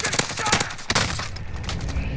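Gunfire in a first-person shooter, a few sharp cracking shots in quick succession followed by a denser burst of firing, close and loud with a faint voice underneath.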